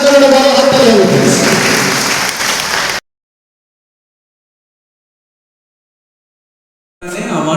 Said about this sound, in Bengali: এটা কোনালের জন্য একটা বড় হাততালি হবে প্লিজ